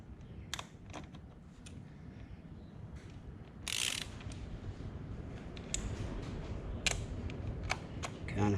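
Ratchet snugging down bolts while installing a Screaming Eagle Extreme Ventilator kit on a Harley Davidson Tri Glide: close, intermittent bursts of clicking pawl with short pauses between turns, over a low background hum.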